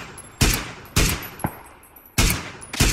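Gunfire in the battle game PUBG: about five sharp, loud bursts of shots at irregular intervals, each cracking out close by and dying away quickly, with no talking.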